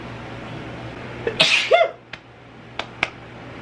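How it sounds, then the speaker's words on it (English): A single loud, close sneeze bursts out with a sharp intake and explosive release, followed by a few quieter sniffs and clicks, with no talking. "I think I'm gonna sneeze again."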